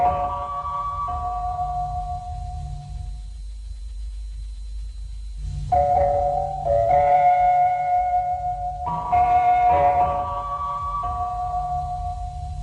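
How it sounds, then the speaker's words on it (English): A 1939 Polish wartime emergency alert alarm sounds as steady, loud wailing tones over a low rumbling drone, dropping out briefly midway and then returning in pulsing bursts. "Poland 1939 EAS alarm."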